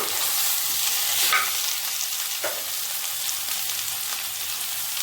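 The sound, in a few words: vegetables being stir-fried in a pan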